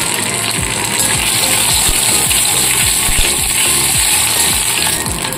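Chopped green chili, ginger and cumin sizzling loudly in hot oil for a vegetarian stuffed papad filling, a constant close crackle with occasional scrapes of a spatula stirring the pan.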